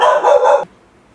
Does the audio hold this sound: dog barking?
yes